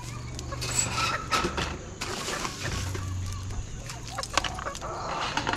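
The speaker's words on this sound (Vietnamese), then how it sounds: "Con gà mà anh Sơn cho mình đây" Chickens clucking close by in an outdoor yard, short irregular calls scattered over steady background noise, with a low hum running underneath.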